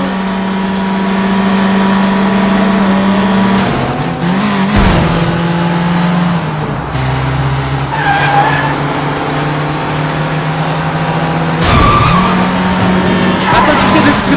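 A car in Sleeping Dogs drives hard with a loud, steady engine drone, tires squealing in long skids several times as it swerves and revs, continuous and close throughout.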